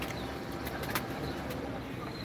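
Pet pigeons coo softly in short, low calls over a noisy background, with a brief chirp in the mix.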